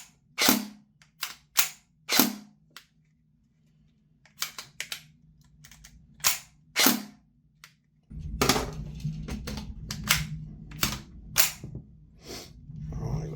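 Tokyo Marui MP5 NGRS electric airsoft gun fired in single sharp shots at irregular intervals, close and loud, followed by a steady mechanical whir and rattle of the gun running.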